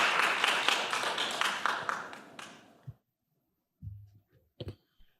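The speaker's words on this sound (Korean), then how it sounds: "박수로 맞아주시기 바랍니다." An audience at a Korean youth science-talk competition applauds to welcome a high school student presenter, a dense burst of clapping that fades out within three seconds, followed by a few faint scattered sounds.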